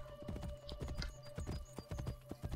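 Horse hooves clip-clop steadily in Assassin's Creed Brotherhood, a brisk rhythmic run of hoof strikes over a low game hum, heard alone without talk.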